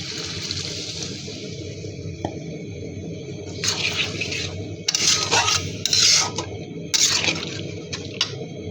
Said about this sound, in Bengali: এখন দিয়ে দিব নারকেলের দুধ